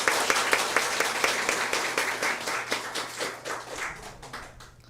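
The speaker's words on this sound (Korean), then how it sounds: "우리 분들 감사의 마음 담아서 박수하겠습니다" A church congregation claps in warm, even applause, a close and steady patter that slowly thins toward the end.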